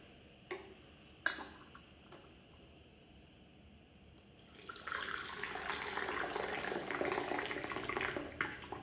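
Freshly boiled water pours from a kettle into a vacuum-sealed double-walled vessel for sheng puerh tea, starting after a few light clinks with a steady bright splashing stream that continues to the end.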